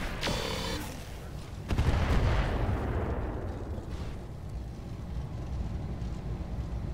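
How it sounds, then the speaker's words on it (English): Grenade launcher fire in the mech game Roguetech sounds as a sharp launch crack, then a heavy booming blast that swells and rumbles out into a long low roar, with faint voices underneath. "I think it's a grenade launcher"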